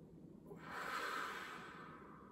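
One slow, breathy inhale during a guided relaxation exercise, soft and close, swelling to a gentle peak and then fading, with no talking over it.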